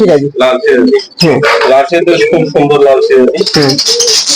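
Soft pigeon coos under steady, close talking in a fancy pigeon shop, with occasional chirps from birds nearby.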